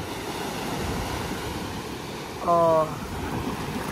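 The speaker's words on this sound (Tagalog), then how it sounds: "Tingnan nyo yung alon, guys." Ocean surf washes steadily at El Nido, Palawan, as a constant broad hiss mixed with wind on the microphone, and one person briefly exclaims partway through.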